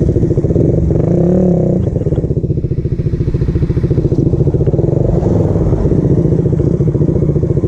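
Suzuki Raider R150 Fi motorcycle engine sputtering up close, a loud uneven putter that rises and falls in pulses, with a short revving surge near the start.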